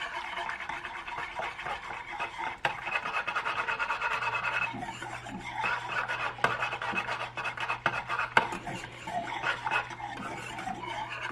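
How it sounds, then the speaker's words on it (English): Chocolate gravy being stirred in a pan, a soft, continuous scraping and rasping of the utensil against the pan bottom, faint and close, with a low steady hum underneath. "Just keep stirring."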